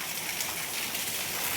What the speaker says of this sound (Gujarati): ઘણો બધો વરસાદ ચાલુ થઈ ગયો